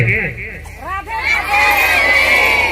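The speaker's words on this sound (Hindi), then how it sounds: "एक बार जोर से चिल्लाओ" A crowd at a satsang gathering shouts loudly together, a sustained mass of raised voices swelling after brief calls, with a microphone voice over the top.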